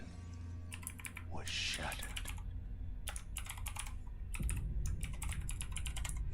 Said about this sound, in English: So you may hear the keyboard tapping in the back.